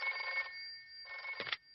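A cartoon telephone rings in two bright electronic trills separated by a short gap, clear and close, with a brief thump at the end of the second ring and no talk.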